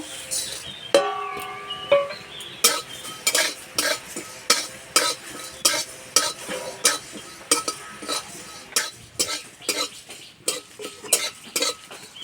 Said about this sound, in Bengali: তা নিয়েছি জিরে, মৌরি, ধনে আর শুকনো লঙ্কা একসঙ্গে ভেজে নেব।